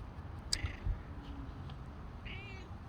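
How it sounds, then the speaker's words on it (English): A cat meows briefly, with a short harmonic cry near the start and a fainter, wavering call later, over quiet room noise. "That's my cat, by the way."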